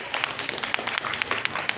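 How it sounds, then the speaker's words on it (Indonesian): A crowd of students and parents claps at a school report card ceremony, a dense steady patter of many hands with sharper individual claps poking through, fairly close and continuous. "Tepuk tangan semuanya."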